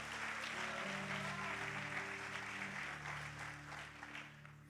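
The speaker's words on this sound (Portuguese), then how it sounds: "Dê um aplauso a Jesus" A church congregation applauding in praise of Jesus during a sermon, steady dense clapping filling the room for several seconds with a sustained hum underneath, no talk over it.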